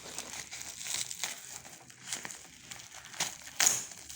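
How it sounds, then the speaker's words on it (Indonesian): A book parcel's packaging, already slit with a cutter, is torn and pulled open, giving close bursts of crinkling and crushing wrapper noise with a sharper rip near the end and no talk. "Ini saya coba udah sobek pakai cutter."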